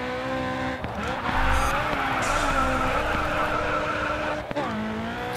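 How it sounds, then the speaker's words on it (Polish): A car drifts in the GRID 2 racing game, its engine droning with gear-shift pitch changes while tires squeal and skid continuously through the slide, loud and close. "Się wykontrowałem, to się nazywa drift."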